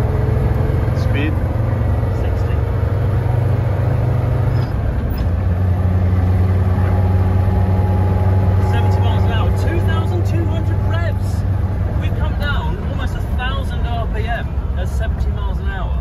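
Land Rover Defender cruising at 70 mph in fifth gear, a steady loud low engine drone with road and wind noise throughout, the engine note dropping slightly partway through.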